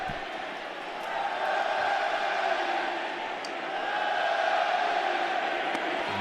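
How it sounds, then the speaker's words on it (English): Wrigley Field crowd serenading the pitcher between pitches during an NLDS playoff game, Brewers at Cubs, a broad sustained roar of massed voices swelling and holding steady, loud and continuous with no distinct talk on top. "The Wrigley crowd serenading him between pitches"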